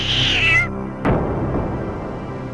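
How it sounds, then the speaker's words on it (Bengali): A cartoon cat lets out a loud, drawn-out meow, which cuts off into a sharp impact followed by a fading, rumbling tail. "ওরে পালা পালা, এক্ষুনি বিড়াল আসছে"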